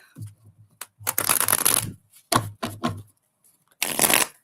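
Tarot cards being shuffled close by in several quick bursts of riffling and slapping, separated by short pauses.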